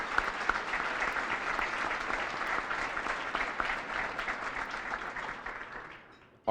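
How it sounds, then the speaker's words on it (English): A crowd at an awards event applauds a sponsor with steady, dense clapping heard from a moderate distance for several seconds before it cuts off abruptly. "How about a round of applause for them?"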